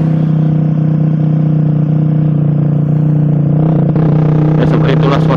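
A car engine drones loudly and steadily close by, with a constant low hum that grows rougher and more rattly toward the end.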